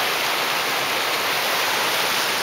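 Many mountain streams fed by snowmelt and springs merge at a confluence, a loud, constant rushing roar of water that fills the whole moment without pause or speech.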